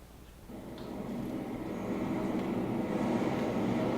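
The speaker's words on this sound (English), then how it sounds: "Train coming." A train arrives as a stage sound effect in a community theatre play, a low rumbling roar that swells steadily and loudly, with no talk over it.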